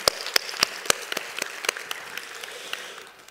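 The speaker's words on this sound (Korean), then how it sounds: "박수로 한번 영광을 올려드립니다" A church congregation applauds at a Korean worship service, a few loud distinct claps over a spread of lighter clapping from many hands, thinning out and fading after about three seconds.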